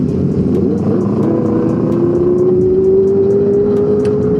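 A ZX motorcycle's engine holds a loud, steady drone whose pitch rises gradually as it revs up, over constant road and wind noise while riding.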